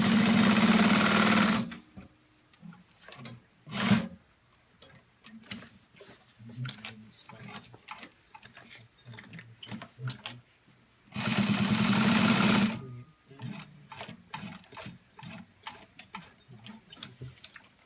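A Consew 1541 sewing machine stitches a seam in two loud sustained bursts, with quieter clicks, handling noises and brief talk between them.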